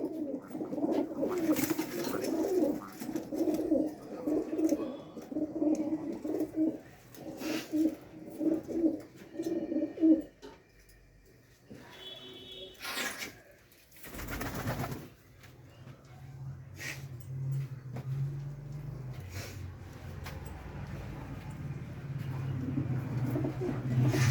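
Pigeons coo in low, throaty repeated phrases for the first ten seconds, then a few sharp knocks and a soft rumbling background take over.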